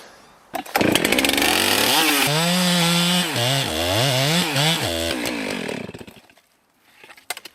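A chainsaw roars close and loud through a felling back cut on a tree, the engine pitch rising and wavering as the chain bites into the wood, then dropping to a brief idle before a short final rev.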